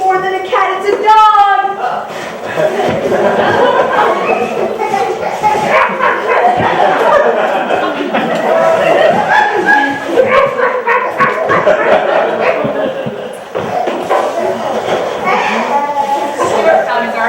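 A dog barks and yips repeatedly in a snowy park by a frozen lake, its calls mixed with steady talking voices and a loud, busy background throughout.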